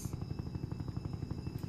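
A SWAT helicopter in the Roblox game Jailbreak gives off a steady, rapid rotor thump with a constant engine drone, loud and close, and no voices over it.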